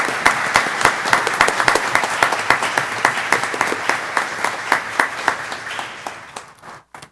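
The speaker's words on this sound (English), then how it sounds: "I think we should give all three of them a big round of applause" Applause at a school board meeting honoring three high school band programs: dense, loud group clapping with a brisk, even rhythm of sharp accents, tapering off and stopping near the end.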